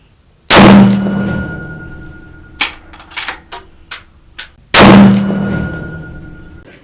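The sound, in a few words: gunshots fired at a long-range target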